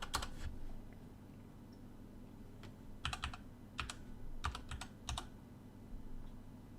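Someone types a two-factor authentication code on a computer keyboard in short bursts of quick, soft key clicks separated by brief pauses, close and quiet, with no talking.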